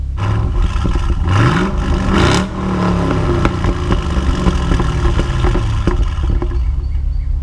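A Chevrolet SS's deep V8 exhaust revs up in quick bursts, pops and crackles on the overrun, then settles into a loud, rumbling idle close by.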